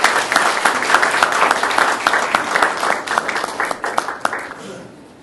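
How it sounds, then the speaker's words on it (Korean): Applause from a church congregation welcoming a speaker at a Baptist fellowship gathering, loud sustained clapping that thins into scattered claps and fades at the end. "박수로 맞아주시면 감사하겠습니다."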